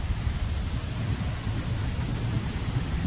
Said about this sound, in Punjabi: ਬਹੁਤ ਵਧੀਆ ਬਰਸਾਤ ਹੋ ਰਹੀ ਹੈ ਜੀ।